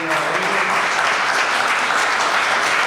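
An audience applauds steadily and loudly throughout, a dense wash of clapping with no pauses, at a talk about Ukrainian refugees.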